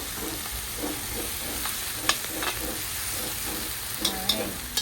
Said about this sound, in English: We're gonna allow this onion to saute for like about 5 minutes